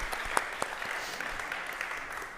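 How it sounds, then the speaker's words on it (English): Applause from a conference audience thanking Amin and Carlos, a steady patter of clapping with a few sharper claps standing out, moderately loud and continuous throughout. "can we give a quick round of applause for Amin and Carlos for doing all of this?"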